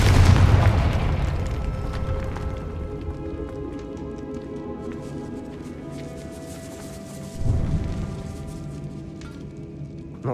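A Confringo blasting spell explodes in a wizarding video game with a heavy booming burst at the start that fades into a long rumbling, crackling tail, followed by a second smaller thud later on.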